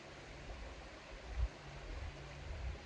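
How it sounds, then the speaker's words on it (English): A river flows in a quiet natural outdoor setting, giving a soft, steady wash of rushing water, faint and continuous with no other sounds. "The sound of the river just,"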